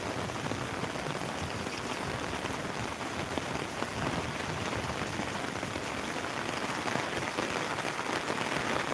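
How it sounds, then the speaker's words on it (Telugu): Heavy rain pours down steadily, a loud, unbroken hiss of drops drumming on surfaces, with no voices. "ఇలా వర్షం ఎక్కువ అవుతూ తక్కువ ఎక్కువ అవుతూ మొత్తం దంచి కొడుతుంది వర్షం"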